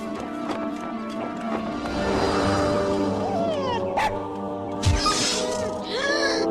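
A small cartoon dog, Toto, yips and whimpers in short bursts over a dense, busy soundtrack, with a sharp cry near the end.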